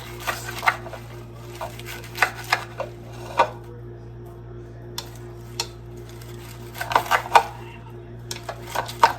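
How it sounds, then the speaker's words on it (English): Vegetables for a salad being roughly chopped with a knife on a cutting board, irregular clusters of sharp close knocks separated by short pauses, over a low steady background hum. "just give this kind of a rough chop"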